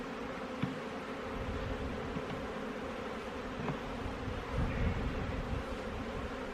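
Honeybees hum in a steady, dense drone at an opened hive during a spring inspection, with a few faint knocks of frames being handled.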